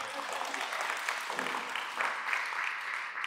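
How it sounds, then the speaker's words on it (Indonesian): Applause for the mothers in a church gathering, a soft, fairly distant patter of many hands clapping steadily without pause. "tepuk tangan dulu untuk kamu"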